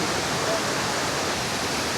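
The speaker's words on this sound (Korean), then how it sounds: "저기 폭포가 뒤로 보이고 있습니다." A waterfall near Luang Prabang in Laos, a dense, constant roar of rushing water, loud and close, with no breaks across the short stretch.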